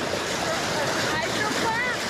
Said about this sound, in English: See, this is called a low-head dam. See how the water's going down?